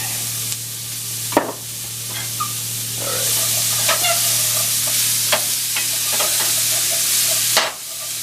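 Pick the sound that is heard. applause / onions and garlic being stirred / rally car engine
onions and garlic being stirred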